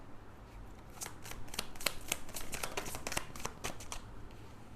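Tarot cards are shuffled and drawn from the deck in a quick run of crisp, close riffling snaps, fairly soft and with no voice over them.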